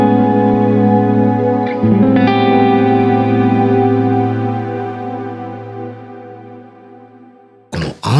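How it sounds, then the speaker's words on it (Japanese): A Strymon Cloudburst reverb pedal with its ensemble switch engaged gives a lush, sustained wash of layered harmonic tones that swells after a fresh chord near two seconds, then slowly decays before a sharp burst at the very end. "このアンサンブルエフェクト、"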